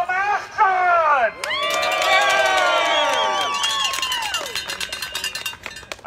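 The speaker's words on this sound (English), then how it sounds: "what a beautiful little crowd we have here today with no masks on!" A small outdoor rally crowd cheers and whoops loudly after a brief spoken line, the shouting swelling then thinning into scattered claps and calls.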